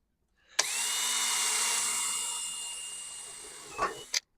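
Close, loud whir of a power drill boring through fiberglass in one sustained run of nearly four seconds, ending with a short clunk.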